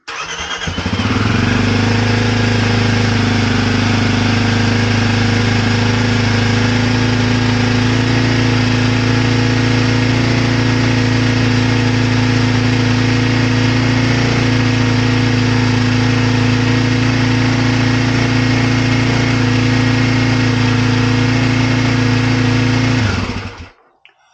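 Motorcycle fitted with a lithium ion battery starting quickly after sitting two days, then idling with a loud, steady engine drone close by that runs almost the whole time before cutting off abruptly at the end, with no talk.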